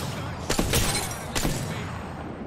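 Sniper rifle fire in the Apex Legends battle game, two sharp loud cracks about a second apart over a steady noisy in-game background, no talking.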